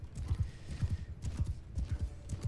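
Cavalry horses galloping in the video game Mount & Blade II: Bannerlord, a steady rolling clatter of many hooves pounding close and loud throughout the battle, with no talk over it.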